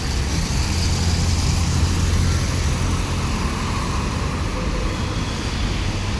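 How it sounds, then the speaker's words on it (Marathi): Steady, loud road traffic rumbles on a road leading toward Nagar beneath an elevated metro line, a continuous roar of passing vehicles with no distinct single pass-bys and no voices. "इकडून गाड्या येतात वाकडेवाडीवरून"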